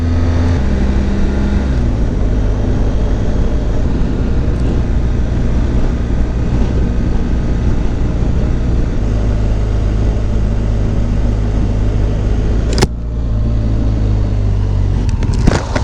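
A Triumph Tiger 800 XRT motorcycle being ridden, its engine droning steadily and loudly throughout, with pitch shifting as the rider changes gears and a brief rushing burst near the end.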